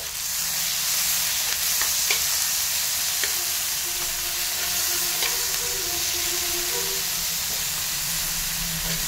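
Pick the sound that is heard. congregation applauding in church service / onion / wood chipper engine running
onion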